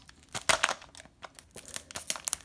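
Stiff plastic toy packaging crinkles and tears as it is pulled away from a Mattel Jurassic World Dino Riders figure set, in close, irregular bursts with no talking.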